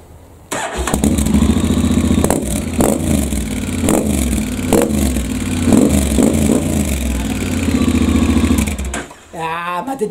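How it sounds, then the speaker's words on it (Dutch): A Honda ADV 750 motorcycle idles and revs with a deep throbbing exhaust, blipping the throttle in repeated bursts, loud and close, before cutting off near the end. "Dus, jullie mogen wel even het uitlaatje horen."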